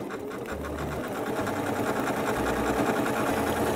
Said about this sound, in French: la machine entraîne le compas et brode parfaitement en cercle